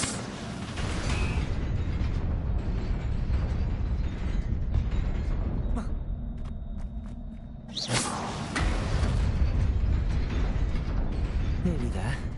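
The Incendio fire spell cast in the video game Hogwarts Legacy, a dense roaring, whooshing blaze with thuds that runs loud and continuous, dips briefly, then surges again, with a voice speaking over it.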